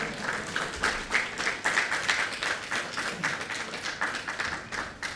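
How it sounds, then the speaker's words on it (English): An audience applauds to welcome a speaker at a public-sector launch ceremony: a sustained burst of many hands clapping, fairly close and even throughout. "As you worked out the little clap a while ago, work it out again and welcome him, please."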